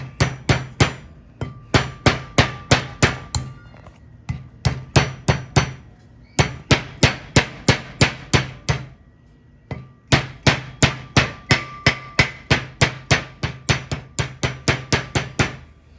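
Light hammer taps seating a wheel bearing race into the inside of a front disc rotor on a 1973 Ford Mustang Mach 1, sharp metallic knocks in steady quick bursts of about eight to ten, close and loud, with brief pauses between groups.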